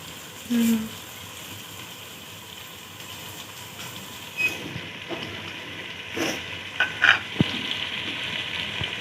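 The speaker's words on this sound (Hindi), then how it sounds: "लाइट ब्राउन करेंगे प्याज" Whole dried chillies, green chillies and onions fry with salt in a pan, giving a soft, steady sizzle with occasional clinks and scrapes of stirring.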